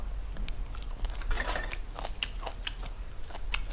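Someone eating a meal of grilled pork with a pounded bean and frog dish, heard as soft, close crunching and biting over steady low background hum, with no talk.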